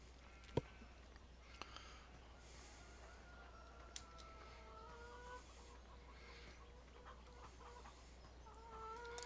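Free-range chickens cluck faintly in Farming Simulator 17, a few soft repeated calls drifting over a steady low ambient hum with occasional light clicks, distant and quiet.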